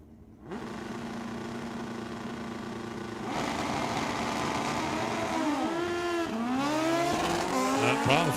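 Drag racing motorcycles at Tucson Dragway, engines droning steadily, then revving louder with rising and falling pitch sweeps as bikes accelerate and pass, loud and track-side.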